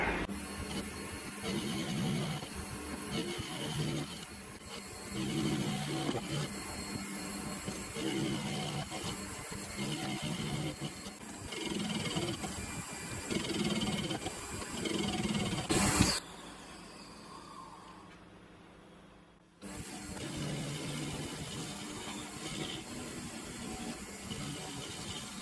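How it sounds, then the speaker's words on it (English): A metal lathe bores out the center of a part in a home workshop. It gives a steady, close hissing cut with a mechanical hum, then drops near silence for a few seconds before the cutting noise resumes. "I've got to bore the center out now as well."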